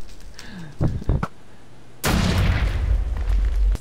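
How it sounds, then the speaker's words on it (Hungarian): A roof blows up in Minecraft with a loud, booming blast rumbling for nearly two seconds, preceded by several sharp thuds and pops. "amit megnyomnak, felrobban a tető, és kilapítja a sereget"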